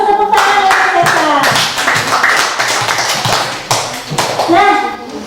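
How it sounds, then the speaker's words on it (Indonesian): Children in a classroom clapping their hands together, a bright burst of quick, fairly close claps that rises and falls over several seconds, with a few young voices mixed in. "tepuk tangan ya, Caca."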